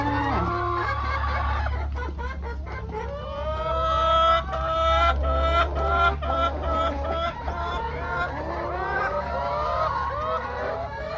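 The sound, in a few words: laying hens clucking on an egg farm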